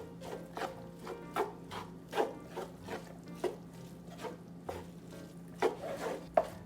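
Wooden rice paddle working through vinegared sushi rice, soft rhythmic scrapes and dull pats repeating about once or twice a second, close and quiet with no talk.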